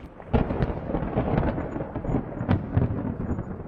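Thunder from a storm high in the mountains of Kyrgyzstan rumbles and crackles continuously, with sharper cracks rising out of a dense, rolling roar, heard close and without talk.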